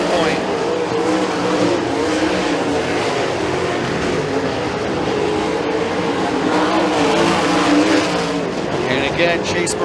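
360 sprint cars race on a dirt track, their engines giving a continuous loud roar with rising and falling revs, under a commentator's voice.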